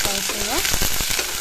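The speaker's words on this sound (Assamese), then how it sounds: "তেলখিনি মোৰ গৰম হৈছে ইয়া পিঁয়াজখিনি দি দিলোঁ পিঁয়াজখিনি অলপ ফ্ৰাই" Chopped onions sizzle and crackle in hot oil in a wok, a bright, dense close-up frying hiss with brief stirring scrapes over a very short stretch.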